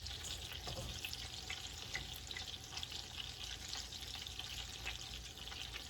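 Chicken kofta fry in a pan over a low to medium flame, making a soft, continuous crackling sizzle that holds steady throughout.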